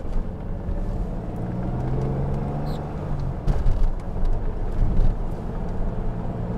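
A 1984 BMW CSi with a five-speed manual gearbox being driven, its steady engine drone and road rumble continuous throughout, with a pitch shift mid-run as the gear changes and no talk over it.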